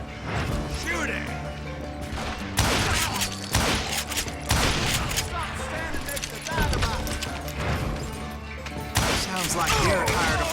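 Western gunfight gunfire in the Call of Juarez: Gunslinger video game, repeated sharp shots and impacts at irregular intervals over game music, with speech mixed in.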